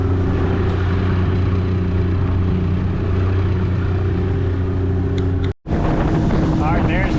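A boat motors across a calm bay, its engine a steady low drone with wind buffeting the microphone, a brief dropout near the end before the engine hum resumes.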